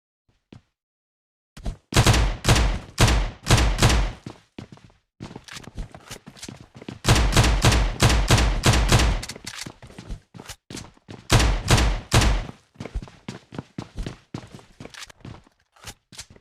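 Gunfire from a pistol in PUBG Mobile Lite during a solo-versus-squad match, rapid bursts of sharp, close shots in several clusters separated by brief gaps and scattered single impacts.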